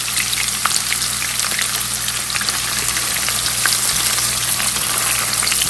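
Medium-sized sliced onion frying in hot oil for a qeema dish, a steady dense crackling sizzle that holds level throughout with scattered sharp pops, close and alone with no talk.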